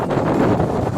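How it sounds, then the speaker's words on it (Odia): Strong sea-beach wind roars and buffets against the microphone, a dense close rumbling gust that holds at a loud, steady level for the whole second, with no one talking. "ସାଉଣ୍ଡରୁ ଜାଣିପାରୁଥିବେ ଆପଣ ପବନ କେତେ ଜୋର ହେଉଛି"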